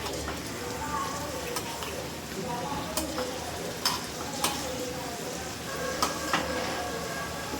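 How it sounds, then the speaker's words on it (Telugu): Food fries on medium flame in a pan, giving a steady, close sizzle with sharp spatula clicks and scrapes scattered throughout. "బాగా ఫ్రై అయిపోతున్నాయి."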